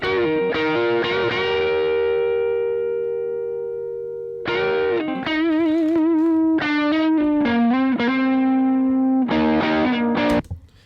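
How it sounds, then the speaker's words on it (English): Electric guitar through an overdrive pedal on an Overloud TH-U amp modeler, chords and notes with a crunchy, distorted tone, ringing and sustained, played loud and close with no voices. "the sound changes accordingly as soon as I pressed the overdrive pedal"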